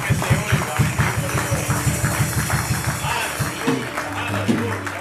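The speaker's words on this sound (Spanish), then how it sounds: "un aplauso que se oiga" A church congregation claps in a steady, rhythmic beat, loud and sustained, with voices mixed in before the clapping breaks up near the end.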